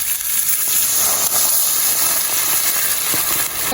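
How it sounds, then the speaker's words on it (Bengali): Water tipped into a pan of sizzling spice masala for an egg curry sets off a loud, close steady hiss of steam and sputtering that holds for a few seconds. "এবার আমি পরিমাণ মতো জল দিয়ে দিচ্ছি।"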